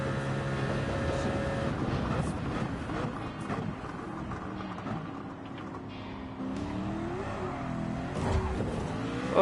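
Race car engines in Gran Turismo 7 whine and rev continuously through an online daily race, pitch rising and falling through gear changes as cars run close together in a slipstream.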